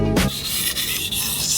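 A knife blade drawn across a 1000 grit whetstone gives a short, close, smooth rasping rub, continuous and fairly even after a brief initial knock.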